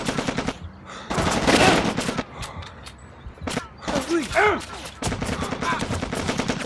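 Rapid bursts of gunfire from Shellshock 2: Blood Trails crackle in loud, sharp volleys with short gaps, under a voice talking.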